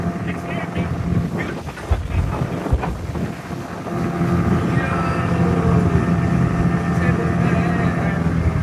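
A motorboat ride in Hyderabad, with a steady engine drone and water rush that grows louder and fuller midway through, buffeted by wind noise, with a few voices under the din.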